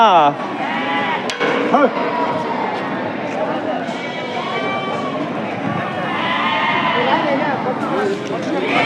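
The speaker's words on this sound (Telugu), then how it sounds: "మేకలు ఉన్నాయన" Many goats bleat over and over in a noisy crowd at a livestock market in Angallu, Annamayya district, Andhra Pradesh, their cries overlapping with people talking nearby throughout.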